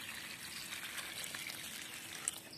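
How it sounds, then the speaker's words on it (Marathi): Soybean pods being washed in water make faint, steady trickling and sloshing, quiet and continuous with one small splash near the end. "तर पाण्यामध्ये चांगले स्वच्छ धुवून घ्यायचे आहेत एक वेळेस"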